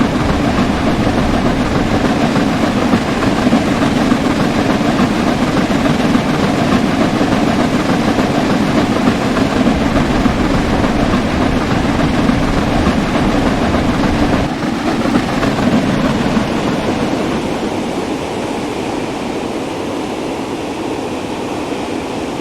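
Flying Scotsman steam locomotive running in the Train Sim World 4 game, a loud, steady rumbling roar with rhythmic chuffing and rail noise, sustained throughout and easing slightly near the end.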